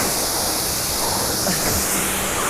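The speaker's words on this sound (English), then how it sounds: "I'm really just looking forward to rinsing this off and just seeing the water bead off it" Water from a hose rinses a BMW E36 during a decontamination wash, a continuous close hiss of spray hitting the car's paint, steady throughout.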